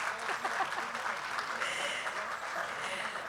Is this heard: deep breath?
no